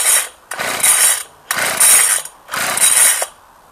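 Three quick pull-cord yanks on a McCulloch Silver Eagle chainsaw with the choke on, each a ratcheting whir of the starter recoil. The pulls are close and loud, with short pauses between them, and the engine never fires.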